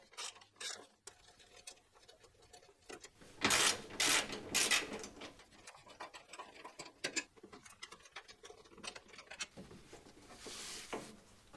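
A ratchet with a 12mm socket works the bolts loose on a Toyota Landcruiser 100 Series bash plate, giving soft, quick ticking clicks in short bursts with quiet gaps between.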